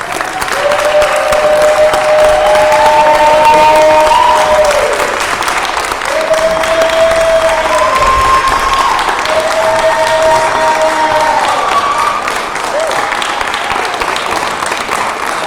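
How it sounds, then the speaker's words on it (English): Sustained applause from a large audience at a live show, steady and full for the whole stretch, with some cheering and bright whistle-like tones rising over the clapping. "Another round of applause for Cass."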